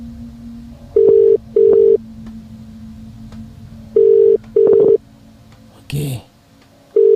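Telephone tones sound while a call is placed: a low steady tone underneath, then paired beeps repeating at an even rhythm, broken once by a short burst of voice.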